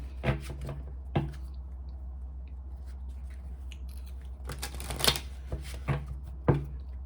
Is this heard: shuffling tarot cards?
yes